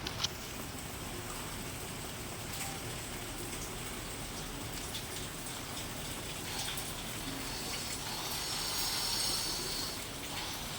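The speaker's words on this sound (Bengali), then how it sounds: "এই দেখো বৃষ্টি হচ্ছে" Sudden rain falls outdoors near a home where laundry hangs, a soft, even patter and hiss that holds steady and swells slightly toward the end, fairly faint throughout.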